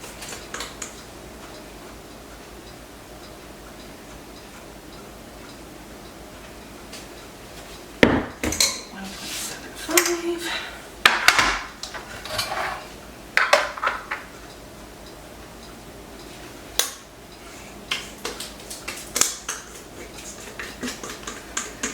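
Cake batter is scraped and portioned between two pans, quiet at first, then a run of sharp metallic clinks and taps of utensil against pan, irregular and close, with scattered knocks toward the end.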